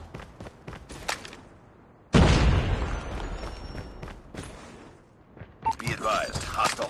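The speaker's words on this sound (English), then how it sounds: "Grenade!" A grenade explodes in a first-person shooter video game, a sudden loud burst that rumbles and decays over a few seconds, with game chatter and voices before and after.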